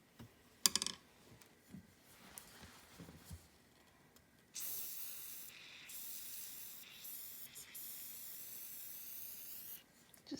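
A can of Liquid Wrench penetrant sprays onto the metal parts of a Singer 201-2 sewing machine, with a few short handling clunks first, then one long steady hiss of about five seconds and a brief burst at the end.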